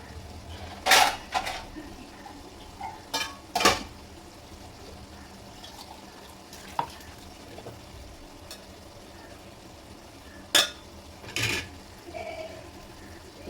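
Curry leaves fry in a pan during home lunch cooking, with sharp metallic clinks and scrapes of stirring scattered over a faint, steady sizzle.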